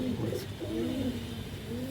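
Pigeon cooing from a pigeon loft in Malda, a soft low murmuring coo close by over a steady background hum.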